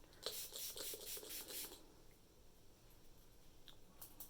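Water spritzed from a water bottle onto paper card for embossing, a quick series of faint hissing sprays at first, then quiet, then a few more soft sprays at the end.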